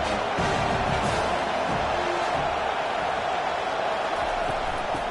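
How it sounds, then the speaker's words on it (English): Stadium crowd in a College Football 25 game, Nebraska versus USC, a dense continuous roar of cheering that stays loud and even throughout, with no distinct voices standing out. "This crowd knows when to bring it."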